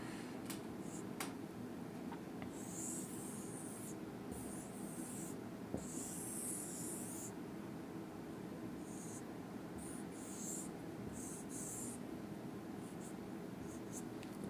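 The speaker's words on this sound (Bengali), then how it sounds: "আমি দ্রুত একটু আঁকছি।" Pen or pencil scratching steadily on paper while sketching a labelled longitudinal section of a hibiscus flower with its stamens, a soft continuous scribble with a few brief sharper strokes, close and quiet, with no one talking.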